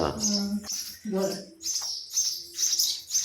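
Sparrow chicks chirp indoors in repeated high, bright bursts, loud and close, while a person talks underneath between the calls.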